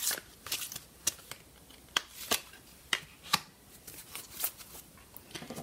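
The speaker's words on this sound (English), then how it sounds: "I'm just going to give it another shuffle" Oracle cards being shuffled by hand in a quiet room, a run of crisp riffling flicks and snapping card edges repeating irregularly over several seconds, close and alone.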